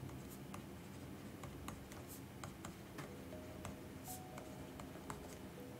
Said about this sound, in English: I'm gonna write his name down.